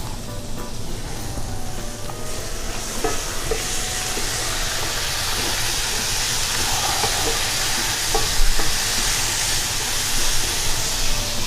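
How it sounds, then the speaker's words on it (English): Broccoli stir-frying with a Medi seasoning blend in a hot pan: a steady, close, full sizzle runs throughout, with occasional louder crackles and faint utensil scrapes as the vegetables are stirred. "then I'm going to come back, get us a quick stir, then come right in with my broccoli"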